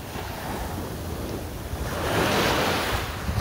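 Ocean surf washing onto the shore at sunrise, a steady broadband roar that swells louder midway as a wave breaks, with some wind buffeting the microphone and no talking.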